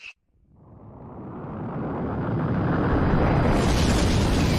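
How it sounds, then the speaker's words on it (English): A deep explosion swells from near silence after a brief click, building into a massive, roaring rumble that grows steadily louder and holds at full strength, a sound effect evoking the Big Bang. "our entire universe was born in the Big Bang"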